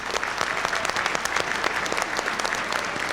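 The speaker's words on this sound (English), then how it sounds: "Round of applause for travel and tourism." Steady applause from a crowd at a graduation ceremony, dense overlapping claps continuing throughout without a break.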